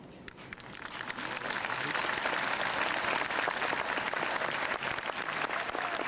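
A commencement crowd at an Eastern Kentucky University graduation applauds first-generation graduates, with dense, sustained clapping that swells within the first second and holds steady throughout.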